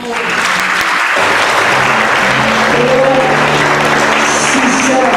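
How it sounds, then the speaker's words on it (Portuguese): Sustained applause from a church congregation fills the whole stretch at a loud, steady level, with voices and a little music mixed in beneath the clapping. "Você pode aplaudir ao Senhor."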